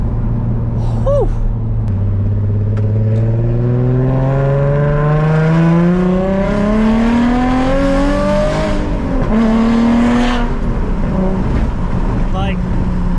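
Nissan 350Z with a naturally aspirated VQ V6 and rear-wheel drive revs hard while driving, the engine note climbing in a long smooth pull, dipping briefly, then rising again, loud and close from inside the car, with voices over it.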